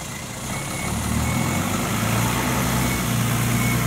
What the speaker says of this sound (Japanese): バスが帰ってきた。